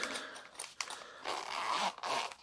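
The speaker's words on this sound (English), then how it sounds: "nice big chunky zipper there" A big, chunky zipper on a QSP Pelican knife's pull-out box is drawn open in a few close, raspy bursts over about two seconds, with short pauses between pulls.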